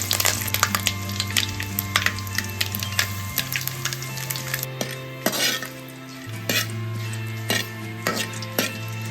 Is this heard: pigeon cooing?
no